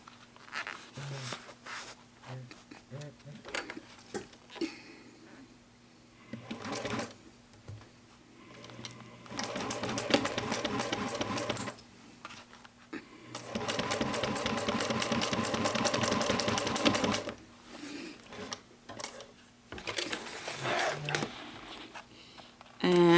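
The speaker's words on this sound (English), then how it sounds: "I'm using a size 16 needle and a Tech 70 bonded nylon thread" A sewing machine stitches a vinyl mini box tote using a size 16 needle and Tech 70 bonded nylon thread, running in several bursts of rapid whirring separated by pauses and handling sounds.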